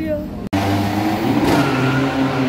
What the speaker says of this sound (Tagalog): Ang ingay naman yung motor na yun.